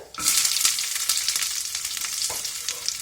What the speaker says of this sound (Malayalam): അപ്പൊ നമ്മുടെ കടുക് പൊട്ടിക്കൊണ്ടിരിക്കുന്നുണ്ട്